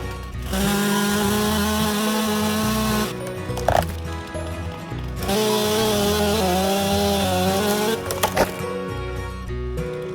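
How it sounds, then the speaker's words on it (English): A chainsaw roars steadily while cutting trees, pausing briefly twice before revving again, with sharp cracks and knocks between bursts; loud and close. "let's go start up the chainsaw"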